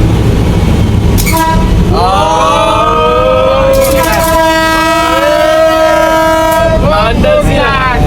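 A loud, sustained train horn blares twice over the heavy rumble of a moving train near Dire Dawa, very close, with a brief break between blasts.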